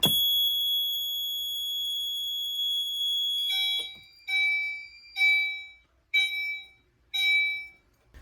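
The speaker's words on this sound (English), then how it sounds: "we're going to activate it again using the test button on the duct detector" A Potter PFC 4064 fire alarm system sounds after a duct detector test: a continuous high electronic tone holds for nearly four seconds, then gives way to four evenly spaced, loud pulsed beeps.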